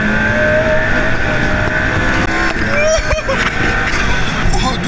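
A McLaren P1 drifts sideways, its engine a loud, sustained roar close by with shifting pitch as it slides, while people talk over it.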